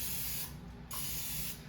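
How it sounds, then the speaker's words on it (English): Vegetable oil spraying onto a scoop in two close, hissing bursts, each a little over half a second, separated by a short pause. "I'm going to spray the scoop with vegetable oil."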